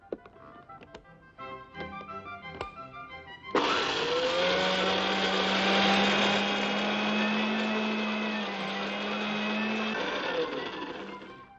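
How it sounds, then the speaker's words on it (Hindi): Kitchen mixer grinder pureeing soaked dal with spices into a paste, a loud continuous whirring motor that starts abruptly after some faint clatter and runs steadily for several seconds, slightly wavering in pitch before winding down. "इन सब चीजों को पीस कर हमने पेस्ट तैयार करनी है"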